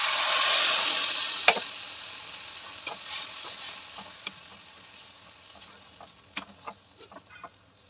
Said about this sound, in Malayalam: ഇച്ചിരി കടുക് വറുത്ത് ഇങ്ങനെ ഒന്ന് ചൂടാക്കി എടുക്കുവേ.